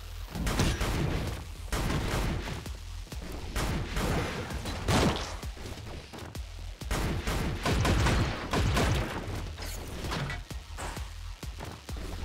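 Rapid SMG fire in the sci-fi roguelite shooter Orbital Bullet, loud sustained bursts of automatic shots layered with game effects, nearly continuous across the stretch with brief dips.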